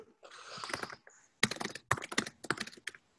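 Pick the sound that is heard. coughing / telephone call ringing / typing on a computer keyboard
typing on a computer keyboard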